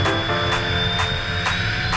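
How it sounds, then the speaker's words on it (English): A Cirrus Vision Jet engine roars steadily at takeoff thrust, loud and close, with a high whine and regular pulsing throbs about twice a second. "Takeoff thrust, engine's good."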